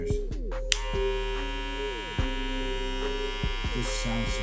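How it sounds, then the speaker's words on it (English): Close, steady electric buzz from Wahl Cordless Senior hair clippers running, with a smooth motor hum that dips briefly several times as the blades shift or are handled. "So the cordless seniors, they just sound more precise, they sound smoother"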